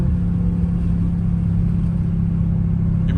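A Dodge Charger Scat Pack engine rumbles at a steady loud drone, heard close from inside the car, with deep low-end throb and no distinct rev spike or voices.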